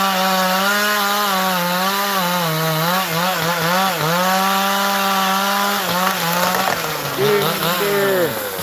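A chainsaw cuts the felling notch in a tree during farm land clearing, its engine a loud steady whine that rises and dips as the bar bites into the wood, running continuously close by.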